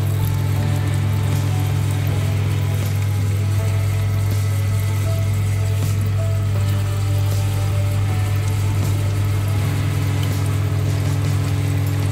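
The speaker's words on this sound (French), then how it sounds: "on injecte l'huile, petit rinçage" Gearbox flush on a car, with oil being injected into the transmission by an automatic machine: a steady, loud low mechanical hum and pump drone runs unbroken, with no talking.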